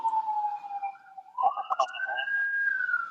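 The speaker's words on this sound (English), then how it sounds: "No, that's a siren over here." An emergency vehicle siren wails outside, a sweeping tone that dips and rises over a few seconds, heard at a moderate distance while voices speak briefly alongside it.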